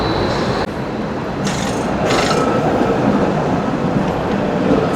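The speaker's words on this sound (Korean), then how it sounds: "트램 지나갑니다." A tram rolls past at night in Qatar with a steady, broad rumble of wheels on rails and a couple of brief metallic squeals and clicks, fairly loud and close, with no talk.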